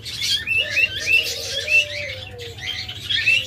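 Caged pet birds at a bird seller chirping in short, bright repeated calls, several birds overlapping at close range over a low background hum.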